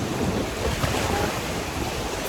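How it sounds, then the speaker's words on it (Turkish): Big ocean waves break and wash along an Australian shoreline in a continuous, loud roar, mixed with heavy wind buffeting the microphone and no clear gaps between surges. "Büyük dalga geliyor abi geç."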